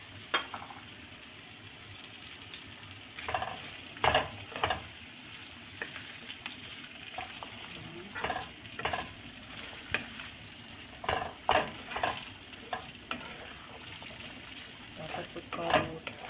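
Potatoes and carrots sautéing in a pan: a steady sizzle and fry, punctuated by repeated sharp scrapes and clanks of a utensil stirring, with occasional talk over it.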